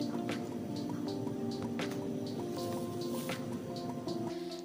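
Hot oil dripping and sizzling off freshly fried pitha made with date jaggery as the cakes are lifted from the pan, a dense continuous crackle with scattered sharp drips, close and steady.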